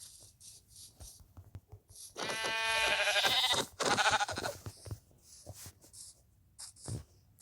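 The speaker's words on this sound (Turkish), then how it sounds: "Aha bir koyun." Two loud, wavering sheep bleats from Minecraft in quick succession stand out amid quiet clicks and soft scattered sounds.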